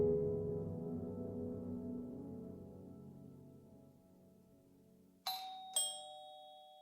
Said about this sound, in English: the Fabiano's doorbell rang for the first time that night